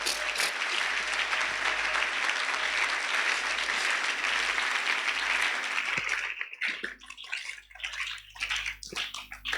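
A church congregation bursts into loud, sustained applause and cheering that fills the room for several seconds, then thins out into scattered claps and fading crowd noise.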